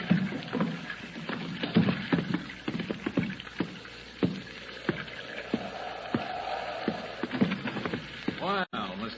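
Wooden rowboat paddled on water in an old-time radio drama effect: rhythmic oar strokes and splashes, moderately close, running under a steady low background with a brief warbling tone near the end.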